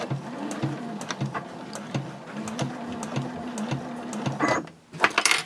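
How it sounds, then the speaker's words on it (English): A sewing machine runs steadily along the seam of a reversible drawstring gift bag, its motor hum broken by brief pauses and small clicks, close and alone without speech. "I'm just going to sew right up to the mark where my opening will begin"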